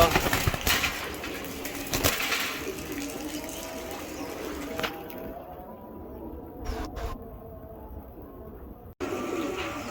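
Giribaz racing pigeons coo softly amid a loft's noisy background, with a few sharp knocks and rustles; the calls stay low and partly masked.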